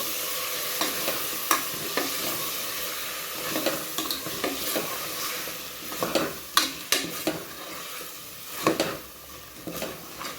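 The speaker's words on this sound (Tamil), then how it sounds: "இதை எடுத்து நம்ம அப்படியே போட்டுக்கலாம். போட்டு இப்போது நல்லா ஒரு கிளறலாம்." Potato and brinjal frying in a pan for kuzhambu, stirred with a utensil: a steady sizzle underneath with repeated close scrapes and clicks of the spoon against the pan at an uneven rhythm.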